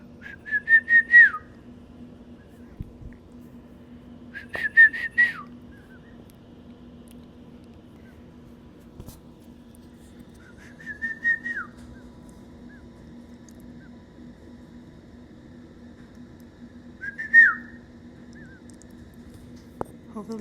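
Emu chick chirping from inside its egg on a farm, four short high whistly chirps spaced several seconds apart, faint over a steady low hum.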